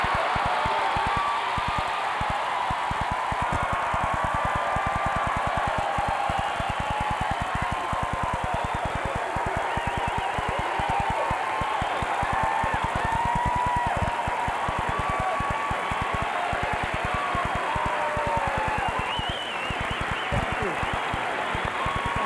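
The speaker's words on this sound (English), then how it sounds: "Please let us give a big round of applause to Mr. Richard Pryor" Sustained audience applause at the Comedy Store welcoming Richard Pryor, a dense, continuous wash of clapping from a packed room, loud and unbroken throughout.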